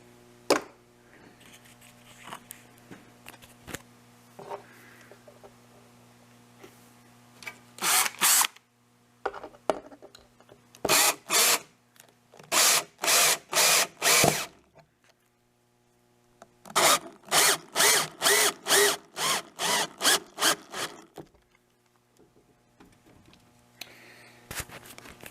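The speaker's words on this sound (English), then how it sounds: "I've been using the same tool to countersink these screws" A power drill countersinks screws into a piece of birch for a beehive finger-joint jig, firing in several bursts of short rapid whirs separated by pauses, with a faint background hum in between.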